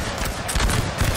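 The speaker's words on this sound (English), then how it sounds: "They do have a lot of infantry that's shooting in the rear." Dense crackling musket volleys from massed infantry ring out continuously in a Napoleon: Total War battle, with overlapping shots forming a loud, rolling fusillade.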